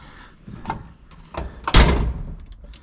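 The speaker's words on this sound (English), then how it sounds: "I love the way the doors open and shut." A 1970 Ford Mustang Fastback restomod's car door thumps shut heavily after a few softer clicks and handling sounds, close by and loud.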